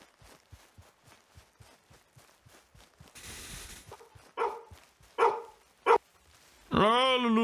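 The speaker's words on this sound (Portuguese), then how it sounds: "Eu vi cachorro pra cá." A dog in the video game Red Dead Redemption 2 gives a rapid run of short, faint, regular barks, then several louder separate yelps and a final whining howl, with a burst of rustling noise in between.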